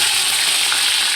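Ginger, green chilli and garlic sautéing in a traditional cheenachatti pan give off a steady, close, bright sizzle with faint stirring scrapes, unbroken and with no voices.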